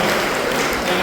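Church congregation at a Lenten retreat clapping in thanks to God, a steady dense wash of hands that fills the whole moment at even loudness.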